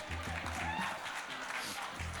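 Press conference audience at an IIFA event applauding in a continuous wash of clapping, with voices and a low rhythmic music pulse underneath.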